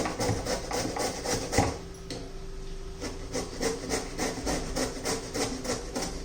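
Bottle gourd is rubbed over a kitchen grater in quick, even back-and-forth strokes, giving a close, rhythmic rasping scrape that repeats steadily with a brief pause partway through.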